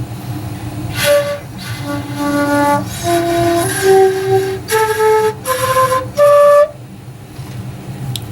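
A breathy, poorly tuned homemade two-piece shakuhachi bamboo flute plays a slow, wavering phrase of about eight held notes over a low, steady background rumble.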